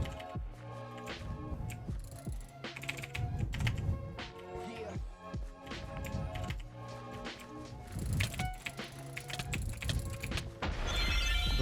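Typing on an old computer keyboard with a broken spacebar during a Minecraft TNT Tag game, with rapid uneven key clatter over game sounds throughout.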